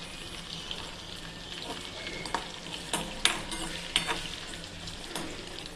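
Garlic, green chilli, cumin, mustard seeds and curry leaves fry in hot oil in a wok for tempering, giving a steady close sizzle with occasional crackles and pops and light stirring scrapes.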